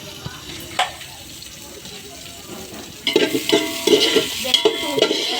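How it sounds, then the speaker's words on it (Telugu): Green chillies drop into hot oil in a pan while making hotel-style biryani. The sizzle is quiet at first, then a loud crackling fry starts partway through and keeps going, with some stirring noise mixed in. "ఇదిగోండి నేను పచ్చిమిర్చి వేస్తున్నాను ఇందులో"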